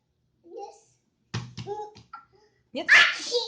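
A young girl gives one sharp sneeze near the end, following brief soft child chatter and an adult's voice speaking close by.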